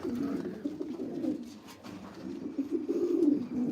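Racing pigeons cooing together inside a loft, a soft continuous murmur of low throaty coos, close and fairly quiet, with no talking.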